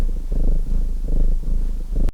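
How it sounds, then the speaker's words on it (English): A loud, close purr from a senior tuxedo cat, low and rumbling, rising and falling in rhythmic cycles with each breath. "He's purring pretty loud today."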